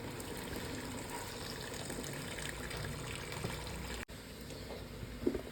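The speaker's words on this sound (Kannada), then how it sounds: "ನಾನೀಗ ಬಿಸಿನೀರನ್ನು ಕೆಟ್ಲಲ್ಲಿ ಕಾಯಿಸ್ಕೊಂಡಿದ್ದೀನಿ. ಈಗ ಇದನ್ನು ಮಟನಿಗೆ ಹಾಕ್ತೀನಿ." Hot water from a kettle pours steadily into a pot of mutton for Dindigul mutton biryani, a continuous close gushing splash that runs unbroken for several seconds, then a brief clunk near the end.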